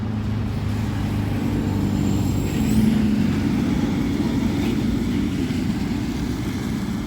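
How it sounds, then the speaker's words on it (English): A truck passes as a steady low engine rumble with road noise, swelling slightly mid-way and then holding, with a faint hiss above. "Let's wait for this truck to pass."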